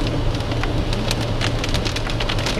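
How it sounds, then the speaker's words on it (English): Steady heavy rain pours down during a July flood, a dense continuous hiss of water splashing on surfaces with scattered louder drops, close and unbroken throughout. "it's been raining since yesterday afternoon. Just a steady big splish of water."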